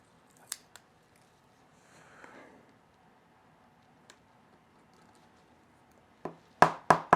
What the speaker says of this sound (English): Now let's knock this H out,